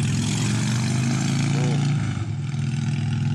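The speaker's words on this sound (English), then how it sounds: "Oh, loud motorcycle, sorry about that." A loud motorcycle passes close by at a mountain railway station, its engine drone steady and heavy throughout before easing slightly toward the end.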